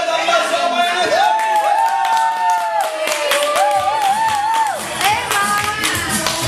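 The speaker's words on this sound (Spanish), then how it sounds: "¡Pido un fuerte aplauso para el equipo!" Guests at a birthday party clap along while music or singing with gliding melodic voices plays loudly over the sharp, scattered hand claps, cheering voices mixed in.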